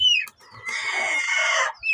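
A young chick gives a single drawn-out, high-pitched call, close by and clear, with a few short chirps just before and after.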